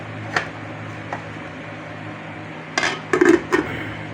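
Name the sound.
covering the cooking pot of tilapia sinigang with its lid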